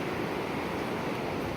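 Ocean waves surging against nearby shoreline rocks, a steady broadband wash with constant wind-like roar and no distinct breaks, close and moderately loud throughout.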